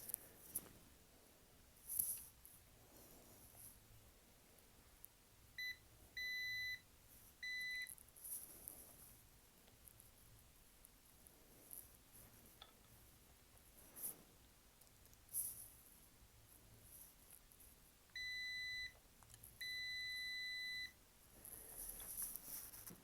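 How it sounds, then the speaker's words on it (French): Quiet, high electronic beeps from a Kaiweets KM601s multimeter in continuity mode, in two separate pairs of short tones, with faint handling clicks and a low hiss between them. "Je vais sélectionner la continuité avec son bip sonneur"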